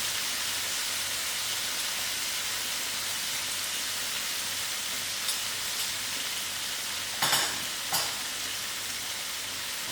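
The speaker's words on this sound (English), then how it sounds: "I'll give this potato a good stir" Peeled, cubed potatoes fry in a pan for an egg and potato curry, making a soft, steady hiss like light rain that runs throughout, with a couple of brief scraping stirs near the end.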